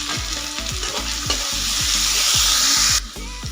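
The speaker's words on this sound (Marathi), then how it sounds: "कांद्याचा कच्चेपणा जाईपर्यंत, कलर चेंज होईपर्यंत कांदा आपल्याला तेलामध्ये परतून घ्यायचा आहे" Onion being sautéed in oil until its colour changes, a loud steady sizzle with a regular rhythm of spatula scrapes, the frying hiss swelling before dropping sharply near the end, close and without talk.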